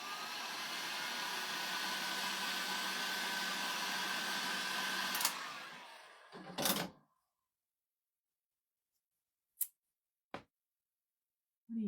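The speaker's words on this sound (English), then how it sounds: "Let me dry it." A hair dryer blows paint dry on fall decor with a steady, loud whir for about five seconds before it is switched off, followed by a few short clicks and handling sounds.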